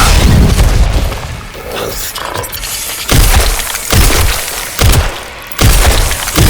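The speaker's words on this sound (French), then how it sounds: "Grenade!" Loud booming blasts and shattering crashes from the video game Resident Evil Requiem, a grenade going off amid repeated heavy impacts and debris, dense and close with no clear speech.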